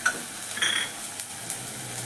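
Tomato sautéing in a pan with chilli powder, turmeric and biryani masala, a soft stir and faint sizzle with a few light scrapes of a spoon, quiet and close.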